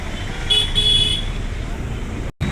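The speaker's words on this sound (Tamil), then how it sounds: "செம்ம டிராஃபிக் காய்ஸ்" Busy road traffic heard during a ride in the rain, with a car horn honking briefly in the middle over a rumbling roadway noise bed.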